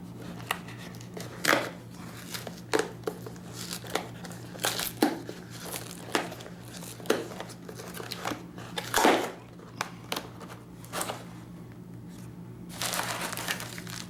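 Plastic knife packaging for Demko AD20S M390 drop-point knives is torn and crinkled up close, irregular sharp crackles and rips scattered over a low steady background hum.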